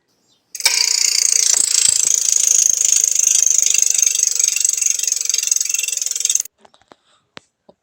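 A spin wheel in an earning app whirs as a dense, fast ratcheting tick for about six seconds, then cuts off sharply, followed by a few faint clicks.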